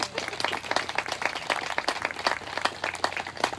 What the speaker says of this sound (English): can we get another round of applause for Senator Ben Cardin?